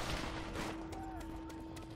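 Rapid gunfire laying down suppressing fire in the Call of Duty World at War campaign, a short burst of cracking shots under a steady tonal hum, with voices present.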